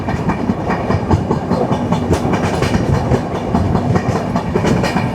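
Barak Brahmaputra Express passenger train running through hilly country, a steady loud rumble with continuous clickety-clack of wagons over rail joints for the whole stretch.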